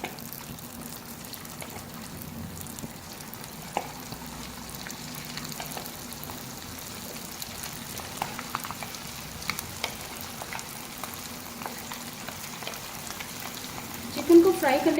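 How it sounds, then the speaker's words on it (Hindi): Pieces of chicken fry in hot oil over a medium flame, giving a steady, fairly quiet sizzle with faint stirring and scraping, ending in a brief louder clatter. "बाकी जो चिकन हमारी बच गई उसको भी फ्राई कर लेंगे सेम उसी तरह मीडियम फ्लेम पर"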